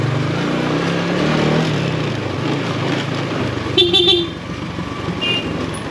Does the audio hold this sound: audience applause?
no